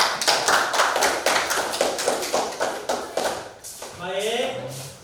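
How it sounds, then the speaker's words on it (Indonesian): Classroom applause for a classmate: a burst of many hands clapping in a steady patter that fades out, followed by a teacher's voice speaking. "Oke, aplaus untuk temannya."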